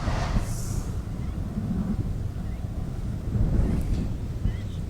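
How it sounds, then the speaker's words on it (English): Wind buffets the microphone at the scene of a wildland brush fire in Maili, a steady rough rumble with gusts swelling and easing, with no talk heard. "windy conditions out here on the west side"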